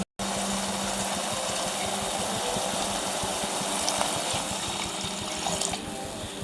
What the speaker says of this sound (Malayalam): അപ്പോൾ ബാക്കി വെള്ളം നമ്മൾ ഒഴിച്ചു കൊടുക്കും